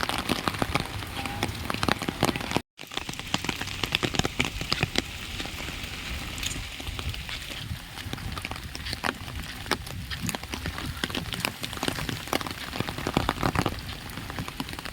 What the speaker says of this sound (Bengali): এখানে এত বৃষ্টি হচ্ছে